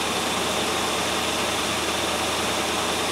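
A 1997 Land Rover Discovery engine idles steadily at a slightly high 1,000 rpm, a constant loud rumble with a dense hiss and no changes in pitch.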